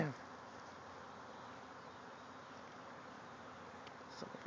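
Honey bees swarming out of a hive outdoors, a steady dense buzzing hum that holds at an even level throughout, with no voices.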